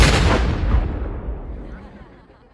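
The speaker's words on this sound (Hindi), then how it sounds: "पटाखे में आग लग चुकी है, कभी भी फूट सकता है।" A firecracker bursts with a loud, close boom at the start, its rumble and crackle slowly fading away over a couple of seconds, with no talk.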